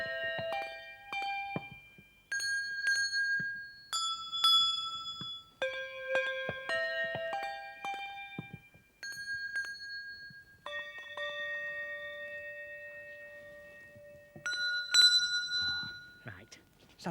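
Bells rung by the Birkenhead bell ringers at a display: an irregular string of clear, ringing bell tones, some struck singly and some overlapping, each sustaining and fading, fairly loud and close, with no talk over them.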